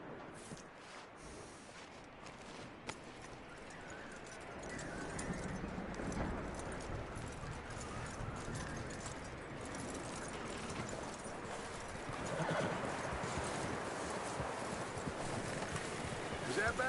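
Horse hooves clip-clopping in the Western video game Red Dead Redemption II, a steady rhythmic trot under wind noise, with people talking over it at times.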